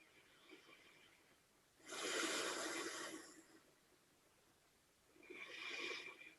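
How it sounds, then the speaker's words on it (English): Slow, deep breaths drawn in and pushed out through the nose with lips closed during a face yoga exercise, two long airy swells separated by a quiet pause, close and fairly soft with no talking. "you need to breathe deeply in and out through your nose"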